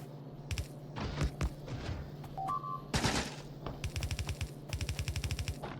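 Gun turrets fire in a factory-building video game on a hard-mode death world against biters: rapid bursts of machine-gun fire, close and loud, coming in repeated volleys with short gaps and a couple of small electronic beeps between.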